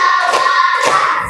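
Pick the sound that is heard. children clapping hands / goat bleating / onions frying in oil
children clapping hands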